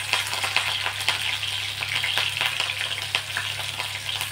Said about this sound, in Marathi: तेल गरम झालंय, यामध्ये आपण या बारीक चिरलेल्या हिरव्या मिरच्या टाकणार आहोत।